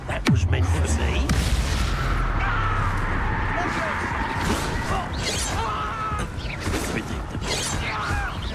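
Confringo blast spell cast in Hogwarts Legacy: a sharp boom at the start gives way to a dense, sustained crackle of magical combat effects with scattered impacts and no pauses.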